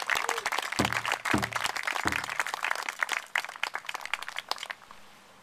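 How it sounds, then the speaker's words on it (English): A crowd at an outdoor Memorial Day service breaks into applause, a few seconds of scattered, fairly close clapping that thins out and fades at the end. "everybody give Eddie a round of applause"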